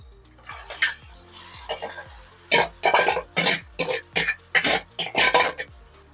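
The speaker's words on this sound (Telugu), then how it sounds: "ఇప్పుడు ఈ మ్యారినేట్ చేసిన చికెన్ని ఆ గోల్డెన్ బ్రౌన్ వచ్చిన దాంట్లో వేయాలి" Marinated chicken tipped into a pan of golden-browned onions and stirred, a run of loud clattering scrapes and clanks of spoon against metal pan in quick bursts, close up.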